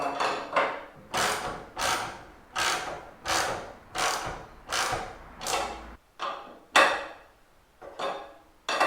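Hardware being tightened on a DIY Harley-Davidson tour pack storage rack in a garage: a series of about ten rhythmic clicking, ratcheting strokes roughly every half second, close and fairly loud, with no speech.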